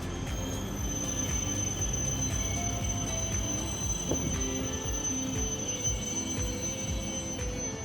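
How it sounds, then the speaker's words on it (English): E3 and E5 Shinkansen bullet trains coupled together pull away from a station onto the main line, giving a steady low rumble of wheels with faint squeals and a thin high whine, at moderate distance. "the pair pulling away and back onto the main line"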